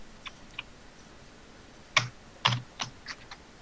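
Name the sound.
someone typing hard on a computer keyboard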